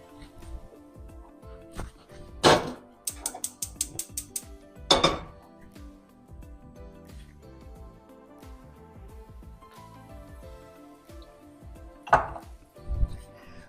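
Cookware clattering on a stovetop as a skillet is set up with olive oil, with several sharp metallic knocks and clinks standing out over quieter kitchen handling noise, close and fairly loud.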